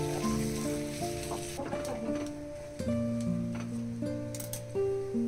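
Mashed potato sizzling and crackling in a hot pan as it is stirred, with steady frying noise, occasional utensil clinks and faint musical tones in the background.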